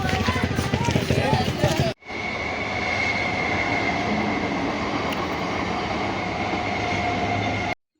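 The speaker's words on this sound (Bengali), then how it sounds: "তোমরা হয়তো ভাবছো যে ট্রেন কেন দেখাচ্ছি" A train rumbles past close by with a steady, loud roar for several seconds, preceded by a brief stretch of talk and background noise before a sudden cut.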